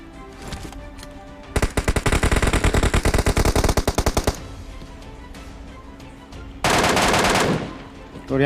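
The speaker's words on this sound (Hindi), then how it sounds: "हमारे स्पेरो भैया वापस नॉक हो जाते हैं और मैं इस बंदे को MK14 से ख़त्म कर देता हूँ" MK14 rifle fire in PUBG Mobile: a long rapid burst of loud, sharp shots, a pause with quieter game ambience, then a second dense burst near the end.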